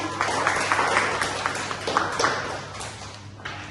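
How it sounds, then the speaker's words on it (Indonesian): Classmates in a classroom applaud, a brief patter of scattered hand claps that rises quickly and thins out within a few seconds. "Tepuk tangan ini teman-teman."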